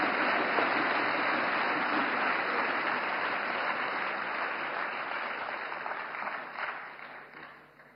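An audience claps in a room, a dense, sustained burst of applause that stays loud for several seconds, then thins and fades out toward the end.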